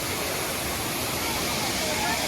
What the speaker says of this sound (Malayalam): ഇതാണ് നമ്മുടെ മണ്ണീറ വെള്ളച്ചാട്ടം